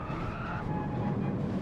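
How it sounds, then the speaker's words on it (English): Car tyres skidding as grip is lost through a corner in the racing game Gran Turismo 7, a steady scrubbing squeal layered over engine drone, held for the whole moment. "losing traction through the corner"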